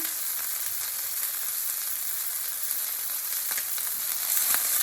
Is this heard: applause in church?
no